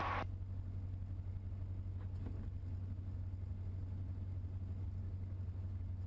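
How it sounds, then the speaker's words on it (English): Small airplane engine idling steadily while taxiing on the ground, a constant low drone with a strong hum throughout and no talk. "if the engine sounds like the RPMs are too high as you're taxiing"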